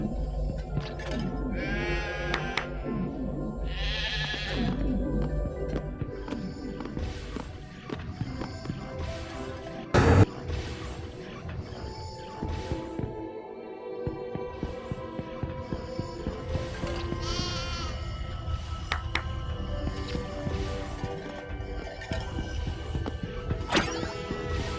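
Cotton candy sheep in a Willy Wonka game bleat repeatedly over a busy, music-filled game soundscape, with occasional mechanical clatter and a sharp click partway through.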